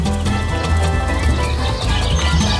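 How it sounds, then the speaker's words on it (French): Two dressage horses shift and stamp inside a horse truck on the way home from a competition, with hollow hoof clops over a continuous low rumble. "elles ont toutes les deux, Monkey et Boubou, elles ont toutes les deux sauté dans le camion hier pour rentrer à la maison."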